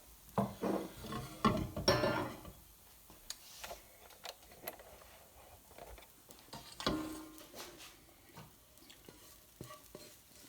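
Biryani rice being spooned from the pot onto a plate, with clattering metal scrapes and stirring scoops that come loud and busy at first, then settle into lighter, scattered clinks and scuffs nearby.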